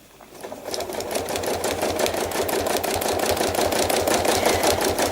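A sewing machine stitching trapunto flowers with green thread, a fast, even mechanical chatter that starts up and holds a steady rhythm at close range.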